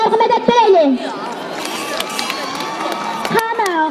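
Crowd cheering and shouting at a Kashgar Sama folk music and dance performance, a loud dense mass of voices with whoops and excited calls throughout, people chattering beneath.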